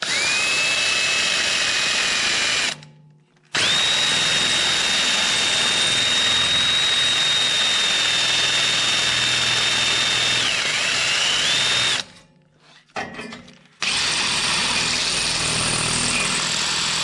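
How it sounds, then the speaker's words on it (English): A power drill bores through concrete to mount a garage furnace, after first cutting through the metal base with a bigger bit. It whines loud and steady in long runs, with short pauses between bursts. "Then I'll drill through the concrete with that bit."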